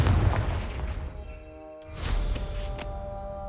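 A Confringo blasting spell goes off in the video game Hogwarts Legacy, a booming magical explosion with a sharp burst and a rumbling tail, followed by more impacts and scattered debris.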